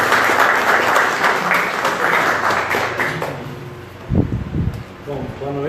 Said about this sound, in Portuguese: Queria chamar o Domênico agora, uma salva de palmas, por favor, Domênico.